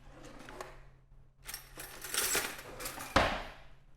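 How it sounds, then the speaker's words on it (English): Hummus is stirred inside a food processor bowl with a utensil. Light taps give way to louder clattering scrapes and one sharp knock against the bowl near the end, close and with no voices. "So we'll get this a little bit stirred."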